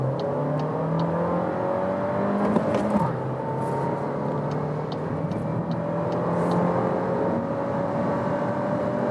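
A 2022 VW Golf 8 R-Line 1.5 TSI engine revs hard as it accelerates from second gear in sports mode, its tone climbing steadily, with a brief shift near the start before it pulls on.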